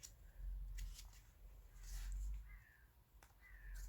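Crows caw a few times at a distance, their harsh calls faint and intermittent over a low steady rumble.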